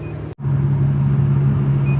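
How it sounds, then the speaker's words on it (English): A high electronic speed-warning beep chirps faintly at the start and again near the end over the loud, steady rumble of a 36-year-old Nissan BE-1 driving over 100 km/h. "That beeping noise is just me going over 100 kilometers per hour"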